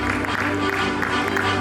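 A hall audience at a World Culture and Environment Protection Commission session applauds to welcome a speaker on stage, a continuous, moderately loud clapping wash over a low background hum.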